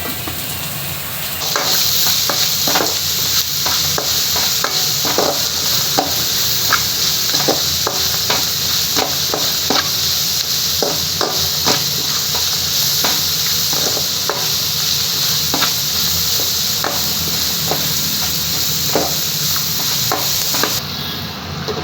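Beans and carrots cook in oil on a low flame for sabakki kichidi, a steady close sizzle with a run of regular spatula clicks and stirs throughout.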